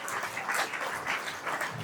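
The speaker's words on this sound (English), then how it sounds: "give my guy Jeff Kane a round of applause." A brief burst of audience applause at a community event, an even, dense patter of many hands clapping throughout.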